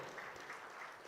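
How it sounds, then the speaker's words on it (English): A crowd applauds a cricketer at a team jersey launch event, a brief, faint and steady burst of clapping heard from afar. "A big round of applause for DJ Bravo!"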